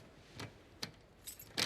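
Keys jangle in The Last of Us Part II, four quick metallic rattles spaced apart, close and crisp over a quiet background with no talking.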